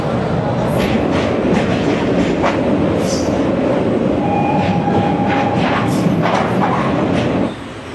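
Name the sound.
train passing through Kashi railway station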